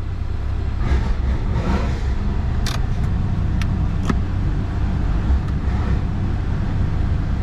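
A 1988 Ford Bronco's engine idles steadily with a low, constant rumble, close and fairly loud, joined by a few brief clicks and ticks.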